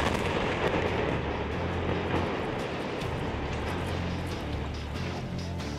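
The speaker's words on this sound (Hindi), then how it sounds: "इस धमाके ने ईरान के दिलो दिमाग को झकझोर कर रख दिया है" A bomb explosion in Lebanon rolls out as a deep, sustained roaring rumble, heavy and continuous throughout with no voices over it.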